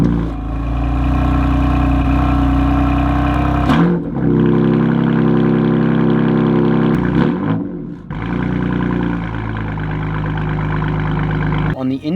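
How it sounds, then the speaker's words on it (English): A BMW F80 M3 fitted with an M Performance exhaust and carbon fiber tips runs close and loud, a thick steady drone shifting in pitch, with brief dips near four and eight seconds. "the M Performance exhaust with the carbon fiber exhaust tips"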